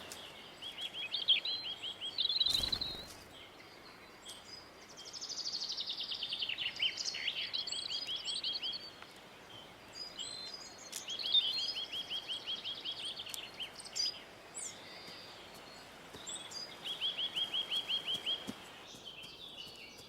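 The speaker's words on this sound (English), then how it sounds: "Birds respond to the returning daylight by starting to sing." Birdsong at daybreak in early spring, with several bouts of high chirping and trilling calls coming in separate bursts, some near and some farther off, over a quiet outdoor background.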